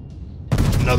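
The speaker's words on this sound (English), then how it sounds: "Oh, he takes some big hits from those torpedoes." A sudden loud blast of torpedo hits and shell explosions in World of Warships, after a quiet stretch with a faint high whine, erupting into a dense roaring burst of gunfire-like booms.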